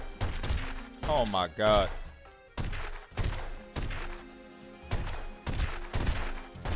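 Gunfire rings out in The Godfather video game as a string of sharp, loud shots at irregular intervals. Someone talks in between the shots.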